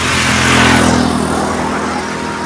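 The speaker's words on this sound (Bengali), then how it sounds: "অল টাইম গাড়ি আসছে, সমস্যা হচ্ছে ভিডিও করতে" Dense road traffic on a city road in Patna, with a continuous loud broadband roar of cars and motorbikes passing close by and one vehicle swelling louder and fading early on.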